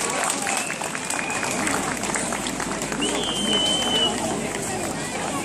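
A crowd applauds at a town fireworks show on a summer festival night, the clapping merging into a steady wash of crowd noise and babble with a brief high whistle-like tone partway through.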